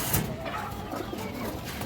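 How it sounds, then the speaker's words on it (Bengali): A male black nun pigeon coos in a short, soft, low burble, close by and fairly faint. "এই দেখেন দর্শক, নটটা ডাকাডাকি করতেছে"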